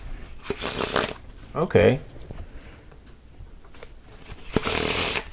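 Theory 11 playing cards are riffled and shuffled in several quick bursts, close up, with a brief spoken word between them.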